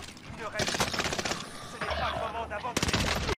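Bursts of rapid automatic gunfire in the Call of Duty Warzone video game, loud and close, with short rattling volleys separated by brief gaps over game noise.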